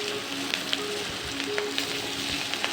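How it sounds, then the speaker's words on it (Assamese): Onions fry in hot oil with cumin seeds, a steady close sizzle with small pops and no voices. "এতিয়া পিঁয়াজখিনি দি ল'ম।"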